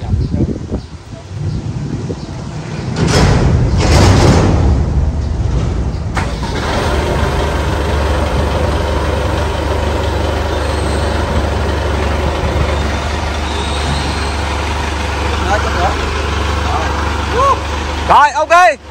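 A Belarus 892 tractor engine idling steadily during unloading, a constant low hum that settles in after a few seconds of rustling and knocking, with people talking nearby.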